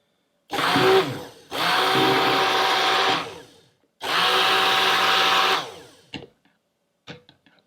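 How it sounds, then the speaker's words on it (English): A stick blender whirs in two long bursts of a few seconds each, steady and close, mixing cold process soap batter, followed by a few faint clinks. "when I pull this stick blender out of the batter"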